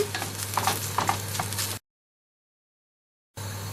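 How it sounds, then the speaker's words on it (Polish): Soft scraping and stirring of tomato sauce in a sizzling pan for a couple of seconds, a brief silent gap, then the sizzle returns. "Dokładnie mieszam."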